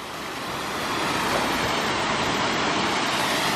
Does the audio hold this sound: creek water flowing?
yes